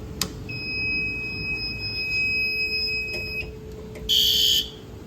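A newly installed fire alarm system in a home basement, key-activated at the panel, sounds with a steady high electronic tone, clicks, then a sharp loud buzzer burst near the end.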